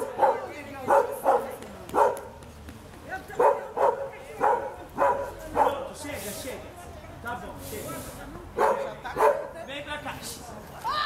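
A neighbourhood dog barks repeatedly in short, evenly spaced bursts, fairly close and loud, with brief pauses between volleys.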